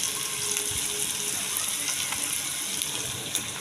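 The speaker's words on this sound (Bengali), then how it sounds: "একটু ভালো করে আমি ভেজে নেব লাল লাল বাদামি রঙের ভাজা হবে" Oil sizzles steadily in a pan as food fries until reddish brown for an egg curry, a continuous close hiss with no pauses and no voices.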